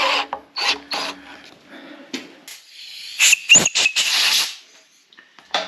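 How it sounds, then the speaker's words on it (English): An end mill cuts through the remnants of a broken bolt in a 351 Windsor engine block, giving loud, uneven rasping and grinding bursts in quick irregular succession, close up with short pauses between them. "I'm cutting through the remnants of the bolt."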